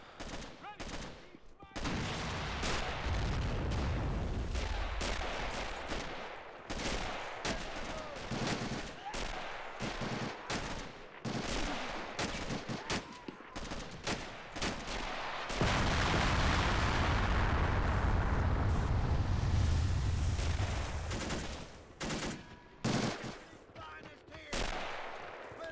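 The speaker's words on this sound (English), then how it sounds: "He's gonna lay down some covering fire." Dense, loud gunfire from a WWII-era battle at Pointe du Hoc in a realism-modded video game: rapid overlapping rifle and machine-gun bursts with heavy booms, continuous throughout, swelling into a thicker barrage midway.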